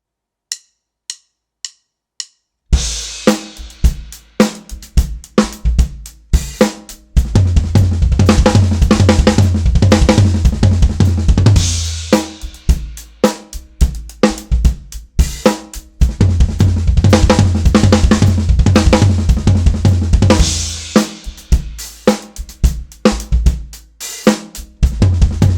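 A drum kit plays gnarly nine-stroke sticking patterns with kick drum accents, opening with a few isolated sparse taps before dense, loud rolling phrases of snare, toms and cymbals drive over steady low kick pulses, pausing briefly between repeated passages.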